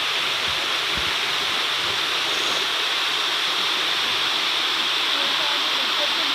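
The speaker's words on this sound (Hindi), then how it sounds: "ये आप देख सकते हैं कि पानी किस तरह जो है बह रहा है" A village waterfall pours in a steady, loud, unbroken rush of white water that fills the whole stretch, with no pauses or changes in intensity.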